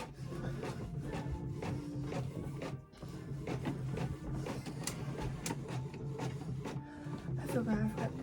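A home printer feeding and printing a page during book reorganizing, a continuous mechanical whir with rhythmic scraping and clicking pulses throughout, a voice briefly audible under the machine noise.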